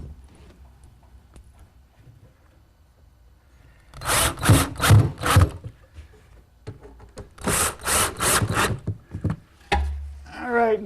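Screws driven through pre-drilled holes to fasten 3/4 by 3/4 plywood cleats with 1 1/4 inch screws in a garage workshop: two loud clusters of rapid, rhythmic whirring bursts, separated by quiet gaps, close by.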